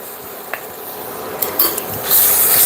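Chopped figs roast in ghee in a pan, a steady close sizzling hiss broken by a few light scrapes of a spatula and growing louder and brighter near the end.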